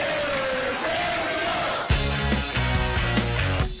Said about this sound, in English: A crowd of fans cheering for the black and gold.